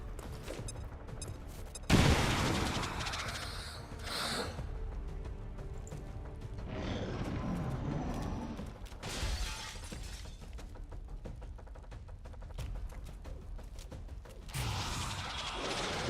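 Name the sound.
frag grenade explosion in video game XCOM 2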